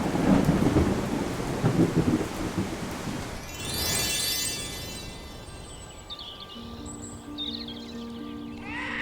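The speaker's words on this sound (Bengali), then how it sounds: "তখন গ্রামে চলছে ভয়াবহ ঝড় বৃষ্টি" A fierce village thunderstorm: heavy rain pours loudly and steadily while a rolling crash of thunder swells midway, then the downpour eases into a softer hiss with faint tonal sounds drifting in near the end.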